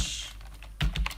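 Close, quick keystrokes on a computer keyboard come in a short burst of clustered taps after a brief pause, with no talking.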